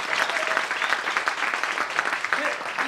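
A crowd at a community social-media meetup claps for Heritage Park, a dense, even round of applause filling the room for a few seconds with faint voices underneath.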